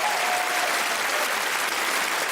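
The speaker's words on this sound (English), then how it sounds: "Give this person a clap for coming on their own." A comedy club audience claps for someone who came alone to a stand-up show, dense, even applause filling the room from start to finish at a steady loud level.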